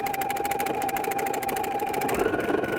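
A sewing machine stitches a buttonhole in fleece, sewing backwards, with a fast, even mechanical chatter heard close and steady throughout.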